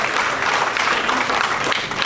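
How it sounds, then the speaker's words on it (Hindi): An audience at a poetry recital gives a loud, sustained round of applause welcoming the poet Rafiya Shabnam, a thick continuous patter of many hands clapping. "दोस्तों इस्तकबाल कीजिएगा जोरदार तालियों के साथ"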